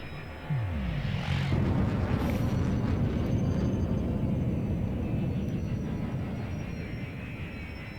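Spaceship engine boost in the space game Elite Dangerous: a sudden loud roaring surge with a rising whoosh that settles into a sustained, steady rumbling thrust, heard alone without talk.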